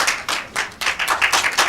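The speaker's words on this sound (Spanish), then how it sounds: "yo pido que todos nos paremos y le demos un gran aplauso al señor presidente" Clapping in response to a call to stand and applaud the president at a book launch in the Dominican Republic; a few people clap in short, uneven bursts, fairly close, with no talk over it.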